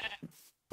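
A blocky video-game sheep gives a short, close, synthetic bleat. After a brief silence, a second bleat begins.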